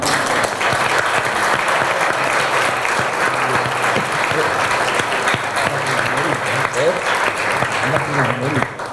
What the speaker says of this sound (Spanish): Le vamos a brindar un fuerte aplauso a los tres profesores que hoy realmente nos han enseñado